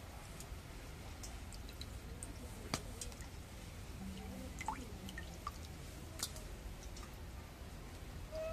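Water dripping and splashing softly while hilsa fish are washed in a kitchen for mustard hilsa, faint irregular drips and small squishy clicks against a quiet background.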